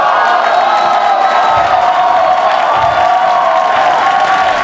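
A loud crowd cheers, whoops and applauds continuously as a band member is welcomed onto a stage.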